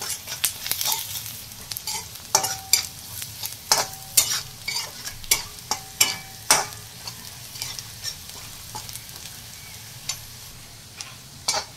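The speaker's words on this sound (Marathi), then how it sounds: "आता हे मसाले चांगले तेलामध्ये परतून घेऊयात।" Spices and red chilli powder fry in oil while being stirred, with soft sizzling under irregular scraping and clinking taps of a spoon against the pan, close and fairly quiet.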